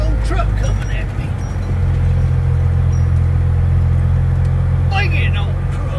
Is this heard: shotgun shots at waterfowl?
no